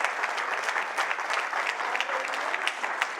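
A church congregation claps together during an Urdu/Hindi sermon: steady, dense applause with no breaks, fairly loud and close, and no clear speech.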